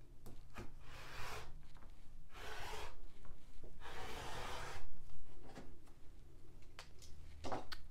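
A rotary cutter slices quilting fabric yardage on a cutting mat in short scraping, rasping strokes, several passes close up with small handling noises between them.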